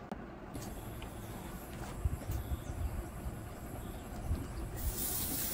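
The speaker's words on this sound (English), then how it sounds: "People are actually frying food." Fish fries in hot oil with a continuous faint sizzling hiss and small crackling pops, heard from a little distance.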